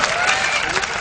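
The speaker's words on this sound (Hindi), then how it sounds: "भाई साहब के लिए जोरदार ताली बजा दीजिए।" An audience at a Hindi comedy poetry show claps loudly, a short dense burst of applause from a crowd.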